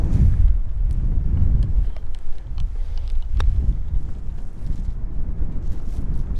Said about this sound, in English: Plus you got the wind behind you.